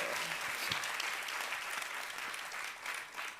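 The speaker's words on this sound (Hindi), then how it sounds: "तालियां बहुत कमजोर कर दी आप लोगों ने" An audience at a public question-and-answer event claps together, a steady patter of applause lasting a few seconds at moderate volume.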